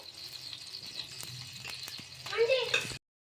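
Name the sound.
tomato dosa batter sizzling on a hot pan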